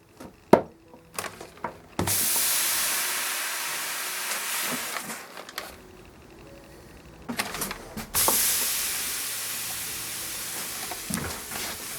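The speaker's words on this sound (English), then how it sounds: "tried to lift that with some steam and a wet cloth" A steady, breathy hiss of steam rises from a wet cloth pressed onto a wooden console table top, in long stretches broken by brief clicks and knocks, fairly quiet and close.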